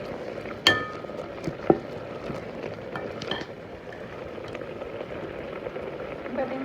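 Lentil and fenugreek leaf kootu bubbling at a rolling boil in a pot, soft continuous popping and burbling with a couple of sharp utensil clinks against the pot.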